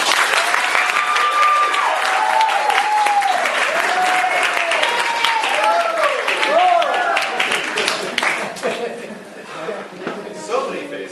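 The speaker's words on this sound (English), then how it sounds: "please welcome Dave with a big round of applause" A big round of applause from a talk audience welcoming a speaker, dense clapping from many hands that fills most of the stretch, with a few voices mixed in, then tapering off toward the end.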